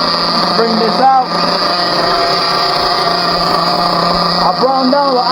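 A Team Associated RB nitro engine runs during break-in, a loud, close, high-pitched buzzing drone that holds steady with brief throttle blips, while someone talks over it.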